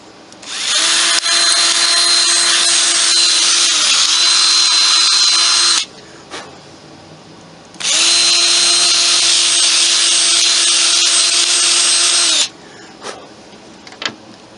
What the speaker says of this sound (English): I'm just gonna ream out these holes a little bit so that the pins will go through